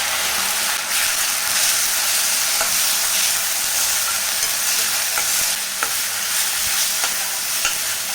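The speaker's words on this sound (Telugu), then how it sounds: "ఇప్పుడు టమోటా పేస్ట్ కూడా వేసేసుకొని ఫ్రై చేసేద్దాం" Tomato paste fries with already-fried garlic paste in a pan, giving a loud, dense, steady sizzle with a few faint stirring clicks.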